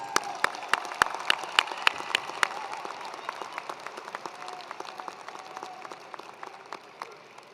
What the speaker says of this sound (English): Students, please give a round of applause to one another